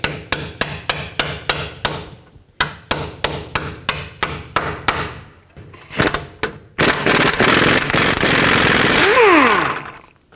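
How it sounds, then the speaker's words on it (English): A hammer taps a 17mm socket onto a broken-off tie rod on a 2012-2017 Toyota Camry. About a dozen sharp, evenly spaced metallic strikes ring out close, pause, and a louder burst of rapid, harsher banging and grinding follows. "you're going to have to tap the socket onto the hammer"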